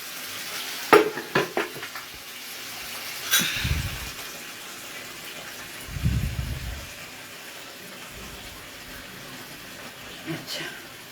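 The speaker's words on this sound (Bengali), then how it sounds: "এই মিক্সি ধোয়া জলটা দিয়ে দিলাম" Water used to rinse the mixer grinder is poured into hot oil and masala while cooking paneer lababdar. A few clinks and clatters lead into two strong bursts of hissing sizzle, then a quieter simmer.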